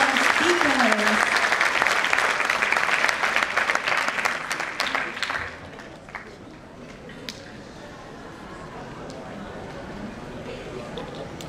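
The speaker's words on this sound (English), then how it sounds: "Please give applause for our awesome speakers." An audience applauds speakers at a seminar, with dense, steady clapping for about five seconds that then fades away into a quieter room.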